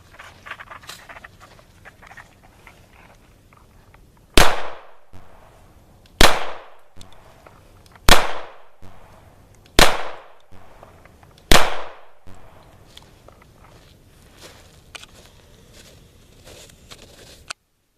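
Five loud, sharp pistol shots from a Sig Sauer P226 loaded with Hornady 100 grain Critical Defense Lite ammunition, evenly spaced about two seconds apart, each with a short decaying echo over a quiet background.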